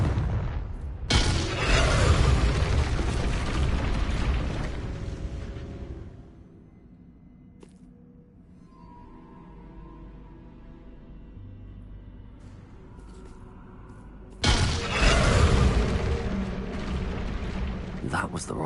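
Confringo blasting spell in Hogwarts Legacy, two loud booming blasts a dozen seconds apart, each a broad rumbling burst that fades, with quieter game ambience and a speaking player between them.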